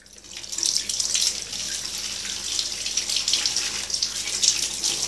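Tap water runs steadily from a faucet over a fishing reel to rinse soap off it, giving a close, continuous hiss and splash with small fluctuations as the reel is turned under the stream.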